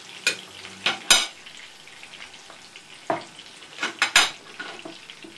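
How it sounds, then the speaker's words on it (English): Meatballs cook in a pan of herb tomato sauce, giving a soft, steady simmer broken by several sharp scraping and clinking bursts as a utensil stirs and spoons the sauce. "If you just cook that for perhaps 10 minutes, and then you can add your meatballs."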